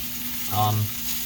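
Mushrooms frying in oil with black pepper in a pan, a soft close sizzle with a short swelling scrape as they are moved around by hand.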